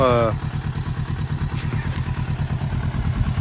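A Suzuki RMX motorcycle engine runs with a steady, throbbing low rumble and rapid rhythmic pulsing, close and loud throughout, after a brief higher-pitched rev at the start.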